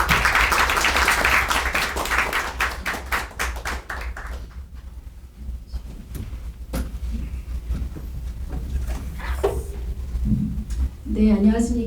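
An audience at an academic history forum clapping to welcome a speaker, a burst of rhythmic close applause that thins into scattered claps, followed by talk and a few taps.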